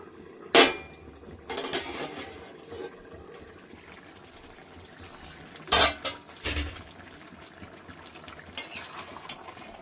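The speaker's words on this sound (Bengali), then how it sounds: "ফুটতে দেব। ঢাকনাটা খুলে দেখে নেব।" A metal lid lifts with a few clanks from a pot of chicken curry bubbling on the stove, sharp clatters standing out against a low, steady simmer.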